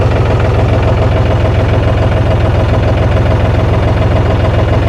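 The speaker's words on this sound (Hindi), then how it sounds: "ये देखो, ट्रैक्टर की लिफ्ट ऊपर उठ चुकी है" Diesel engine of a John Deere 5310 tractor running at a steady idle with a hydraulic pump problem as the hydraulic lift raises, a loud, close, continuous rumble with rapid even pulsing and no voices.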